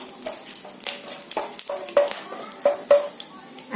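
Onion goes into hot oil with garam masala in a pan, giving a soft, steady sizzle broken by several sharper stirring scrapes and clinks, close by and moderately loud.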